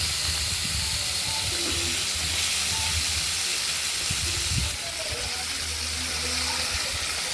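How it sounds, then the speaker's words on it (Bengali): Okra fries in hot oil for a poppy and chorchori, making a continuous hissing sizzle at a steady level with faint scraping underneath. "তেল গরম হয়ে গেছে আমি ঢ্যাঁড়স দিয়ে দিলাম ভেজে দিয়ে দিলাম"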